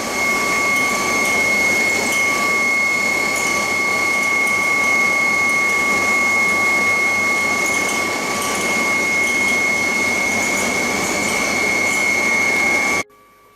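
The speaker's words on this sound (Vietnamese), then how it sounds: "những cái máy mà thổi oxy này nó giống gọi là máy quạt lò nên cái âm thanh nó nghe rất là lớn" Oxygen blower machines at a discus fish farm in Trung An, Cu Chi run continuously, a loud steady mechanical roar with whining tones and rattling, alone without talk until it cuts off at the end.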